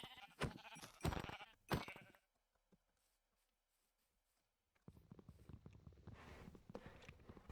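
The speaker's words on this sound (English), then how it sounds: "Ah! Sheep, at last." Sheep bleating in Minecraft, a few quick blocky bleats and clip-clop steps up front, then a near-silent gap before more shuffling game sounds return.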